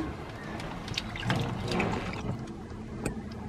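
Tomatoes and chili peppers being rinsed in water by hand, with soft continuous splashing and trickling that swells in the middle, close by and moderately quiet.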